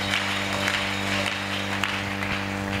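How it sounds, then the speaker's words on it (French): A church congregation applauds during a sermon, a steady dense wash of clapping from many people throughout, over a sustained low organ or keyboard hum. "Acclamons très fort."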